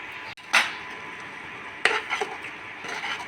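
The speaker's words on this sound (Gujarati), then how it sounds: "બરોબરનું મિક્સ કરી નાખશે બા." A spoon stirs whole mung bean curry in a metal pot, giving a few distinct clanks and scrapes against the rim with quiet gaps between them, close and clear.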